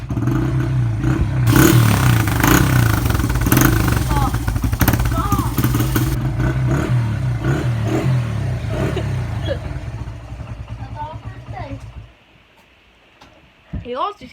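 A dirt bike engine running loud and close with a rough, rattling idle and throaty revving for about twelve seconds, then cutting out to near silence; voices talk over it.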